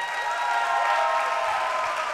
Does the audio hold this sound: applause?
yes